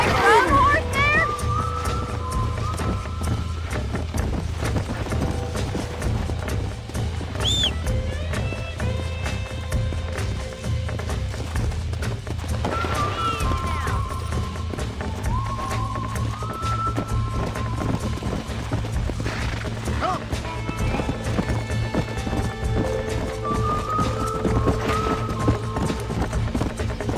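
Horse hooves clip-clopping at a run in the Red Dead Redemption western video game, a steady galloping rhythm under game music and ambient noise, with no clear neigh standing out.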